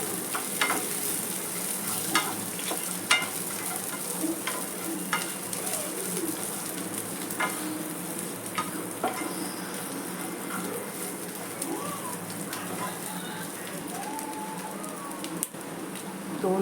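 Finely grated coconut sautéed in a pan for Agri-Koli style misal, a continuous close sizzle broken by scraping stirs and clicks, with birds cooing faintly in the background.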